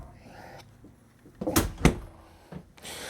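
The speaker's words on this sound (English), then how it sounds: "Open this door up." An interior bedroom door in a 2009 Breckenridge Bayridge 41BBL RV swinging open, with a couple of sharp latch clicks and a soft bump close by, set against quiet room tone.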